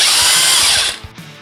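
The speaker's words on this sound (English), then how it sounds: "now I'm just gonna use my impact gun" Pneumatic impact gun spinning out 8mm clutch cover bolts on a 1994-97 Kawasaki ZX-9R, a loud steady whirring burst for about a second that cuts off abruptly, followed by a faint brief clink.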